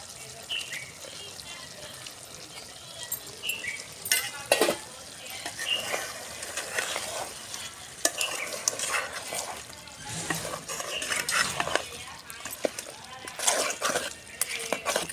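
Chicken frying with chopped tomato in a pot for a country-chicken curry, a steady sizzle with stirring clatter and scrapes, occasional splashes, and a voice speaking at times over it.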